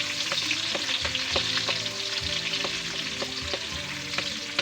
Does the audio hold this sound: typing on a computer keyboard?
no